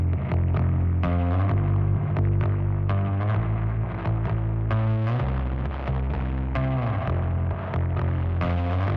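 Bass guitar line run through an Eventide CrushStation distortion plugin on its default setting, a steady, loud, gritty low-end riff with thick fuzzy harmonics and a rhythmic pulse, no voices.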